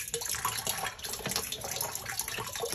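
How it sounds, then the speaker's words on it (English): Water draining out of a Culligan water softener brine tank after a fitting is unscrewed, a steady close splashing, gurgling flow that runs continuously with no talk. "water is flowing through here right now because it's actually draining out through there."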